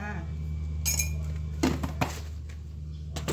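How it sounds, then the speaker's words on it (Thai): Coffee powder spooned into a tall jar-shaped glass, a few clinks of metal spoon against glass over a steady low hum, close and fairly quiet with no talk. "เข้มแล้วก็ใส่กาแฟไป4ช้อนค่ะ"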